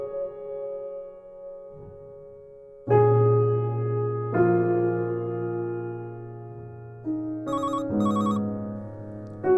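A phone rings at an indoor gathering, its electronic ringtone rising and falling in a repeating tonal pattern that grows louder partway through and holds steady across the stretch.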